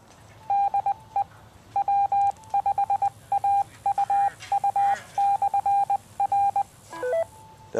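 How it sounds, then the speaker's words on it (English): Amateur radio repeater broadcasting its Morse code station identifier: a string of clear, evenly pitched beeps in short and long bursts, sounding alone, ending with a few rising tones. "every 10 minutes by law, the repeaters here put out an identifier, Morse code-like"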